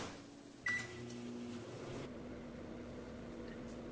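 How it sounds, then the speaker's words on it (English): A microwave oven runs with a steady low hum while heating a bar of Ivory soap in a big bowl, starting with a click and beep, then droning quietly and evenly. "put it in a nice big bowl, and then pop it in the microwave for 2 minutes."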